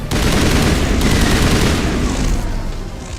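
Dense, loud, continuous gunfire in Mass Effect, a sustained barrage of rapid shots and impacts filling the whole stretch.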